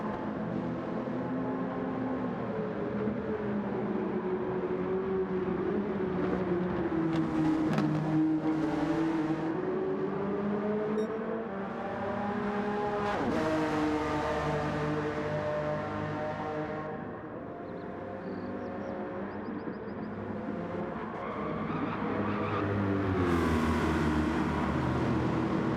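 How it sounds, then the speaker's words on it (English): Gr. 4 class race car engines at Suzuka in a Gran Turismo racing game, a steady loud drone of several engines revving up and down through gear changes, with no voices over it. "He's now looking to make the pass on Ads, who's struggling a bit with his front tires."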